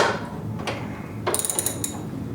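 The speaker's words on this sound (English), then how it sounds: "the lock latching mechanism." A hot rod car door lock latching mechanism clicks and ratchets in a few short, close metallic snaps, with a quick burst of rapid clicks near the end.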